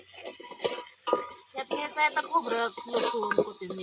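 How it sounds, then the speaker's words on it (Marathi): Mutton masala fries in oil on a wood-fired stove while a utensil stirs and scrapes it, giving close, uneven sizzling and scraping bursts with no talk over it. "तर जरा हे लालसर भाजून घ्यायचं आहे म्हणते तर हे बघा ह्याला तेल सुटलं"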